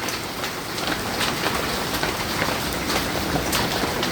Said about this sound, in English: I know y'all can hear this. We got some hail.